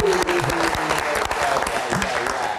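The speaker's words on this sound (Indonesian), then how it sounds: "Tepuk tangan dong." A studio audience at a Wednesday night talk show claps loudly and steadily throughout, a dense, close applause that fills the room with no pauses.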